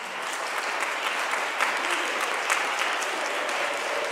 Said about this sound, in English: I want to give one more round of applause to all of our great singers.